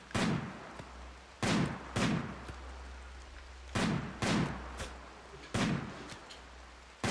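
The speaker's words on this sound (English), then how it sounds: "we're firing at max range" Gunfire in a video game, a series of loud, sharp shots fired at irregular intervals, some close together in pairs, over a low steady background hum.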